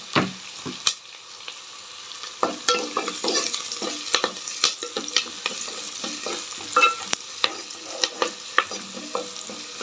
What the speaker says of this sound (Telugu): నెక్స్ట్ కరివేపాకు వేసుకున్నాం.